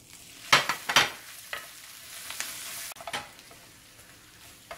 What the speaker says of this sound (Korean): 김치는 당근을 볶은 팬을 닦지 말고 그냥 한번 살짝 볶아주세요.